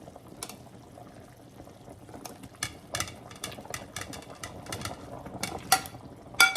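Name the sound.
green papaya added to simmering chicken ginger soup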